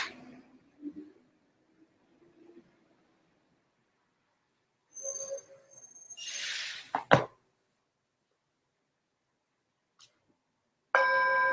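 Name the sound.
meditation bell being rung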